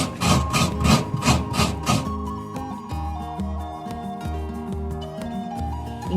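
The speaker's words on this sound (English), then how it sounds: "Grate the coconut and keep it ready." Coconut is grated by hand in a Kerala kitchen, heard as about six rhythmic, close rasping strokes that fill the first two seconds before the scraping stops.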